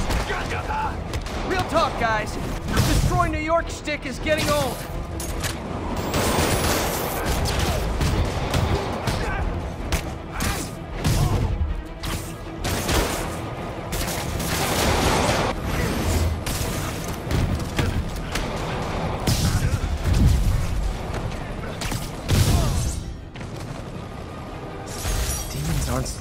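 Gunfire in Marvel's Spider-Man as police shoot at demons. Repeated bursts of shots and impacts carry through a busy fight mix, with someone talking over the action.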